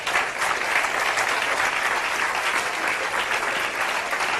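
Dense, sustained applause from a church congregation during a Spanish-language service, a steady wash of many hands clapping with no break, some faint voices mixed in.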